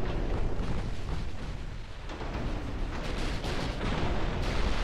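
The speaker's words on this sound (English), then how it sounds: "Every 14 seconds, we fire 3 shells per turret." Nine-inch naval gun turrets in the warship game Ultimate Admiral Dreadnoughts firing high-explosive shells: a dense, continuous barrage of overlapping booms and rumbling blasts, loud and sustained, with no talking.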